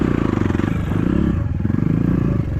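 Kayo TSD 110 enduro dirt bike engine revving in short repeated throttle bursts, a close, loud, buzzing small-displacement motor with rattling clatter during off-road riding over bumps.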